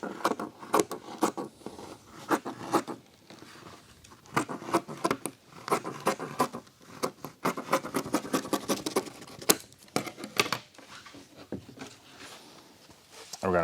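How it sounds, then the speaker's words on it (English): Scissors cutting through Alcantara fabric for a BMW car door panel, a quick series of close, crisp snips and scraping rustles with no one talking. "We're just going to go ahead and cut it."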